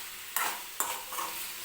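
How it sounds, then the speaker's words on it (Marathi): A spoon stirs cauliflower and green peas sabzi in a pan, with three distinct scraping strokes over a soft background sizzle and no talking. "तर आता याच्यामध्ये मी हे फ्लॉवर आणि वाटाणा टाकून घेणार आहे आणि व्यवस्थित मिक्स करून घेते"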